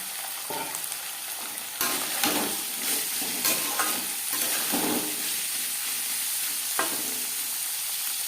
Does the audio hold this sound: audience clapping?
no